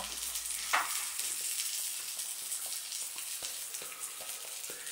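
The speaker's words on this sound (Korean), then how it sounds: "이 지글지글 소리가 지금까지도 끊이질 않고 있어요" Steady, dense sizzling of boiled loach frying on a hot plate, crackling continuously at close range with small pops throughout.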